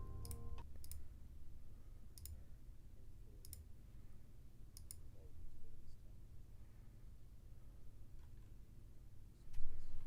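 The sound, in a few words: typing on a computer keyboard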